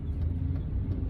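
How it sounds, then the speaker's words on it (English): A manual stick-shift car's engine rumbles low and steady at close range, a continuous running drone with no talk over it. "Start the car and proceed."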